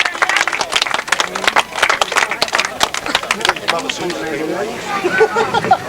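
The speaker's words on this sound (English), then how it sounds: "Give him a round of applause there" Spectators at a grasstrack racing championship applaud a rider, with a burst of clapping that thins out into crowd chatter and babble, people talking nearby as the applause fades.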